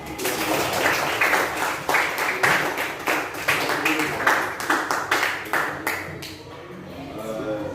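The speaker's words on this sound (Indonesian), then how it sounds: "Tepuk tangan" During a teacher training session, a small group claps along in a quick regular rhythm, distinct slaps repeating evenly before trailing off near the end, fairly faint in a reverberant room.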